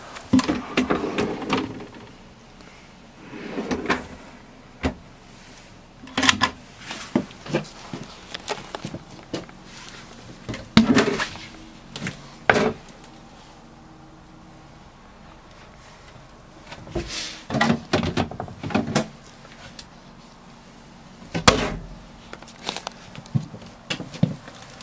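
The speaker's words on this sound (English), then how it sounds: "there are some soft closing on the doors" Soft-closing doors and cupboards in a 2020 Sunlight I 69 S motorhome: a series of muted thuds, clicks and handling knocks come in irregular clusters, close and fairly quiet, separated by near-silent gaps with no talk.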